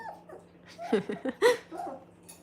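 A puppy gives a short run of high yips and small whimpering barks, close and fairly soft, with a faint steady hum underneath.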